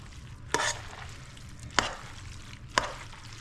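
A spoon stirs and scrapes through pesto pasta with sun-dried tomato in a pan, making three distinct close scraping strokes over a faint sizzle.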